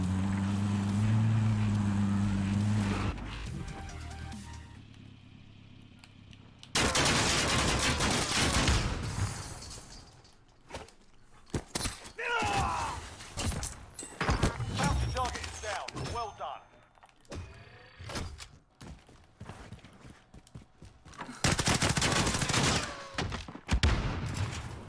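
Gunfire in the game Warzone: bursts of rapid shots and sharp single cracks come in uneven clusters, broken by quieter gaps, with a hum at the very start and voices talking at times.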